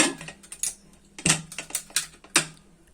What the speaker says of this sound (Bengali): প্রেসার কুকারের ঢাকনাটা লাগিয়ে নিব।